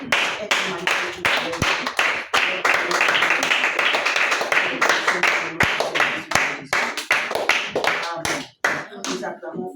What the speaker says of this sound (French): Nous acclamons fort pour la parole.